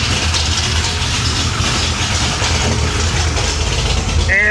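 Engine of a 560HP 1966 Chevy Impala idles loudly and steadily as it is shifted into gear, a constant low rumble with a brief squeal near the end.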